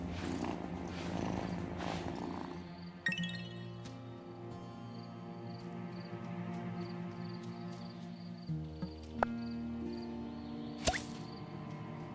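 A cat purrs inside the video game Wylde Flowers, a soft continuous rumble lasting throughout, mixed with gentle game music and chimes and occasional small clicks.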